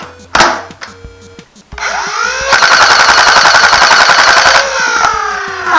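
Modded Nerf Stryfe blaster with an automatic conversion emptying a drum of foam darts: a few quick shots, then a loud, sustained buzzing burst of rapid-fire whirring and clatter lasting several seconds before winding down.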